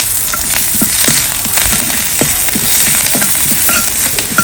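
Curry leaves crackle in hot oil for a tempering, giving a steady close sizzle dotted with small pops and crackles throughout, with no voices.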